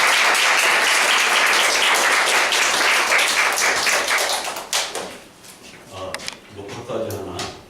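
Loud applause from a lecture audience for a professor fills the first five seconds, dense and steady, then thins into scattered claps and a voice speaking.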